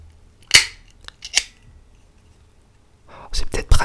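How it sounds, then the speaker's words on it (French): An office stapler pressed down a few times, giving sharp metallic clacks with quiet gaps between them and a quick cluster of clicks at the end, close and fairly loud. "Une agrafeuse."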